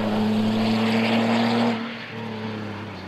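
A race car pulling out of the pit lane at the Nürburgring on fresh tires during the 24-hour race, its engine note a loud steady roar with a strong tone that drops away as the car pulls off.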